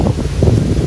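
Strong gusts buffet the microphone at the Prambanan temple grounds, a loud, steady roaring rush with brief surges and no speech.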